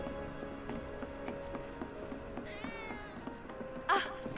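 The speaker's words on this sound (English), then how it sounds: "Ah, that was definitely a cat." In the video game Final Fantasy 7 Remake, a cat gives one short, wavering meow, faint against steady background music, followed by a brief burst of rustling noise.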